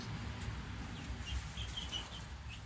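Faint chickens cluck and chirp on a farm, with a rooster among the flock, brief soft calls over a low steady background rumble.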